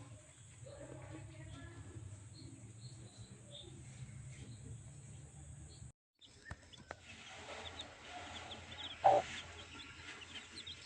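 Young chicks about five days old peck at feed beside water in a village setting, with soft scattered cheeps and faint pecking over steady background noise, a brief gap midway, and one louder chirp near the end.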